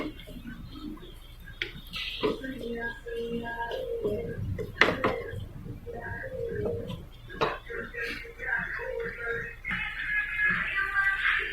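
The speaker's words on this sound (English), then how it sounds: "Adding garam masala. Mix properly." Vegetable masala being stirred together with garam masala in a pan: scattered clinks and scrapes of a spoon against metal under a voice talking throughout, with a few sharper knocks along the way.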